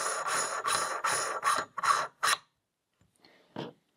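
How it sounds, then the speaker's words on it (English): A 21 mm spacer ring being threaded onto a camera adapter for a Celestron EdgeHD telescope, giving several short raspy metal scraping bursts in quick succession, then a pause and one last faint scrape, close up with no talking. "Next, I add the 21 millimeter spacer."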